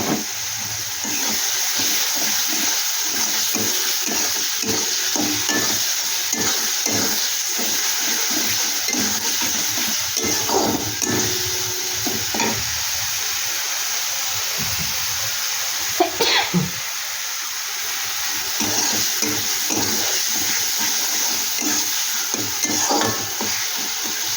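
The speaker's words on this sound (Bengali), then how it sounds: "একটু সামান্য একটু জল দিয়ে মশলাটা একটু ভালো করে আমি কষিয়ে নেব" Spice paste with Kashmiri chili powder and a splash of water being sautéed in a pan for a Bhetki fish chorchori, a continuous close sizzle with repeated scraping and stirring of a spoon against the pan.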